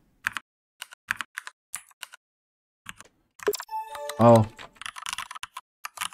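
Simulated mechanical keyboard keystrokes from the Mechvibes app: scattered separate clicks, then a quick burst of typing over a short voiced sound, followed by denser clacking.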